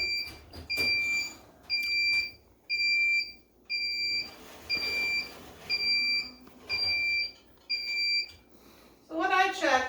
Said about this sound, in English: Our timer is just now going off